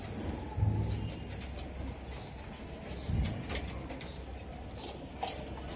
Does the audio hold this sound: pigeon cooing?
yes